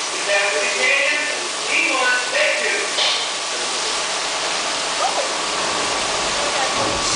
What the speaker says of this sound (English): We've rigged up a series of water nozzles just above your tram.